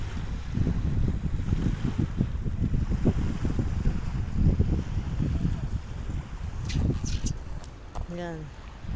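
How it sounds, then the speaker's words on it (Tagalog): Sea waves wash against the shore at Hudayriyat Island in Abu Dhabi, a low rumbling surf mixed with strong wind buffeting the microphone, with a few voices and a high chirp near the end. "ang alon-alon ng tubig"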